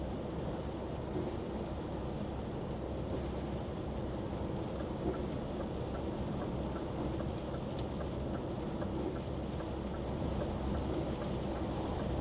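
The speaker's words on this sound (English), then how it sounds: "the rain's getting harder" Heavy rain pours down around a moving van on a UK road heading toward the M25, a dense steady hiss of drops mixed with low road and engine rumble, continuous and unbroken for the whole stretch with no voices.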